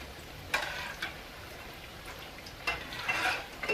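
Patty pan squash fritters fry in a hot pan, a soft steady sizzle broken by a few sharp ticks and scrapes from a utensil, close up and fairly quiet.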